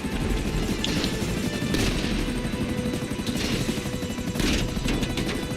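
A helicopter in the video game GTA Online drones with a loud continuous rotor roar, and bursts of gunfire and crashing impacts break through it in quick succession.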